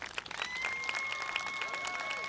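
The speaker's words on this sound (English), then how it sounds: "Give yourselves a hand of applause," Graduates at a high school and adult education commencement clap for themselves, a moderate, fairly distant patter of applause with a steady tone ringing faintly through a hall.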